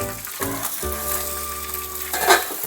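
Fish fries in a hot pan, a steady close sizzle and crackle, with a brief scrape as the pieces are turned.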